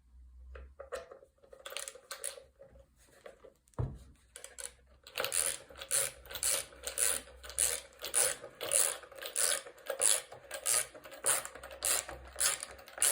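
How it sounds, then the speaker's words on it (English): A screw is driven into a wooden nesting box with a ratcheting tool: a few scattered clicks and a knock, then a close, steady run of rapid repeated clicking ratchet strokes. "I'm going to put another screw in."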